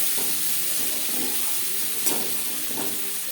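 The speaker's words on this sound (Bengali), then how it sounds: "পেঁয়াজ লালচে করে ভেজে নেব।" Chopped onion fries in hot oil for an amish thor bhaja (banana stem fry), a steady broadband sizzle with a few louder crackling bursts from stirring, close and continuous with no talking.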